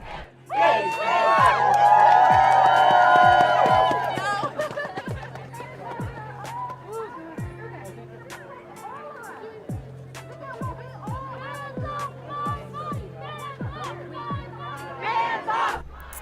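Protesters chanting outside the Supreme Court in Washington DC, a loud crowd roar with cheering that fades into rhythmic repeated chants over a steady drumbeat, voices blurred together.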